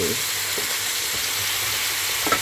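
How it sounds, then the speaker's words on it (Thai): Fish, onion and pepper stir-fried in a hot pan, a steady close sizzle with soft scraping stirs running throughout, no voices. "แล้วก็คนให้ทั่ว"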